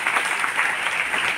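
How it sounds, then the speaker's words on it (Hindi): A dense, continuous wash of audience clapping fills the hall at a Hindi poetry recital (kavi sammelan), loud and steady from start to finish with no pauses. "तालियां बजा लें।"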